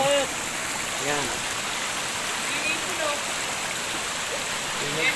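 A rocky river in Montalban flows over stones in a steady continuous rush, close and fairly loud, with faint chirps above the water.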